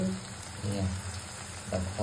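Raw plantain fries in a pan with a steady, soft crackling sizzle held close, while a voice talks quietly in the background.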